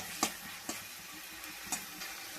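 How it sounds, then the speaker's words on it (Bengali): Egg curry masala sizzling as it fries in a pan, a steady faint hiss broken by a few sharp spatter ticks at irregular intervals, with no talking. "তো দেখো এখন ডিমের মশলা কষাচ্ছি"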